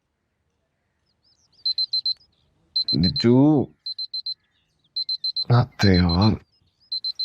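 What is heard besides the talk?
alarm clock ringing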